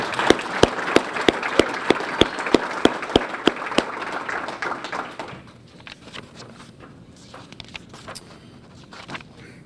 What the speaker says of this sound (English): give Chance a round of applause for his great work